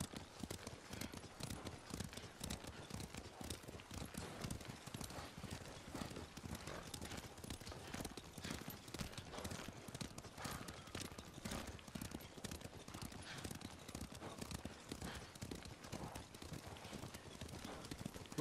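Horses gallop with a steady, dense clip-clop of hooves in Ghost of Tsushima, loud and continuous for the whole stretch over a constant background rumble, with no voices.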